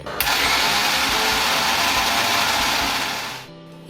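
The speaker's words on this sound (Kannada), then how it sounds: "ಈಗ ಹುರಿದಿರುವಂಥ ಮಿಶ್ರಣವನ್ನು ಮಿಕ್ಸಿ ಜಾರ್ನಲ್ಲಿ ಹಾಕಿ ಒಂದು ಟೇಬಲ್ ಸ್ಪೂನ್ ಹಾಲನ್ನು ಹಾಕಿ ಚೆನ್ನಾಗಿ ರುಬ್ಬಿಕೊಳ್ಳಿ" A kitchen mixer grinder blends a roasted sugar and milk mixture for Dharwad pedha, a loud continuous motor whir starting abruptly and running steadily for over three seconds before cutting off near the end.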